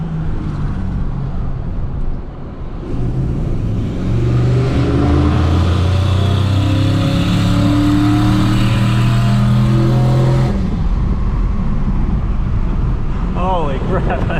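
Turbocharged Ford F150 pickup with a coolant leak accelerating hard on a freeway, engine roaring and climbing loudly and steadily for several seconds close up, with a brief voice at the end.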